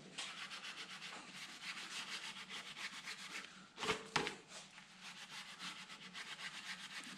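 Steady hand scrubbing on an engine block around the coolant passages, a continuous rhythmic rubbing close by, briefly interrupted by a couple of louder scrapes midway.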